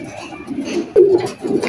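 Two pigeons, a pair of Pakistani golden chuha (teddy) birds, coo in low, rounded bursts close by, a louder phrase swelling near the end of a short stretch.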